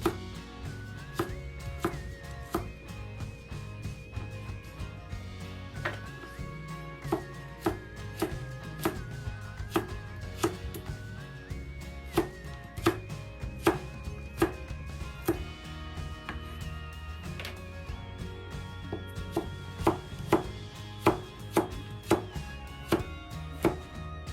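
A knife slicing pork on a cutting board: a long run of sharp, irregular taps and cuts close by, over steady background music with a plucked melody, no speech.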